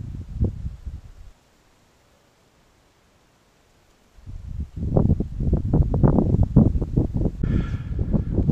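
Wind gusting across an outdoor canoe campsite, a brief rush at the start, a lull of near silence, then sustained loud buffeting and rumbling against the microphone that keeps going to the end.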